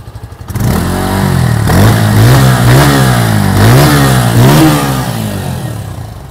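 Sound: Bajaj Pulsar N150 motorcycle engine revving

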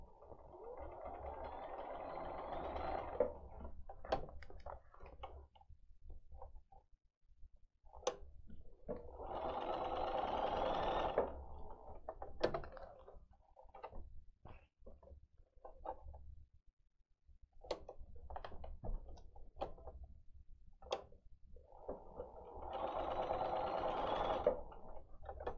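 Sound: sewing machine stitching template onto fabric

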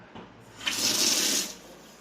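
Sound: water running into toilet tank pipe

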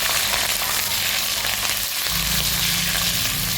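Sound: chicken skin frying in hot oil

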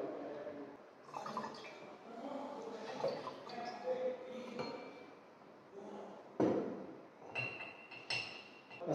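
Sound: stirring dilute nitric acid solution with glass rod

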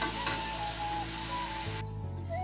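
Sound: meat added to frying potatoes, sizzling in pan

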